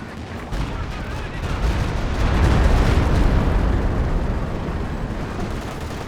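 A 152 mm artillery shell exploding in the strategy game Company of Heroes 2, a deep rumbling blast that swells to a peak midway and then lingers as a long roar, with gunfire in the background.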